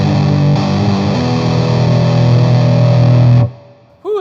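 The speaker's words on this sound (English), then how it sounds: "I don't think we will get anything out of the neck pickup with the metal zone." A Fender Aerodyne Telecaster on its neck pickup roars through a Metal Zone distortion pedal, a loud sustained fuzzy chord ringing for several seconds before cutting off, followed by a brief squeal.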